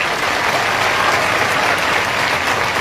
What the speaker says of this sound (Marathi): पुणे जिल्ह्यातल्या सगळ्या मराठा समाजाचं टाळ्या वाजून कौतुक करू